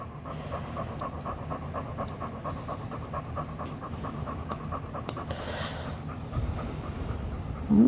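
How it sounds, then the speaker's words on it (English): A sleeping bulldog snores in steady, rhythmic breaths, nearby and fairly soft, with a slightly louder rasp near the end and no talking. "That's my bulldog. She snores."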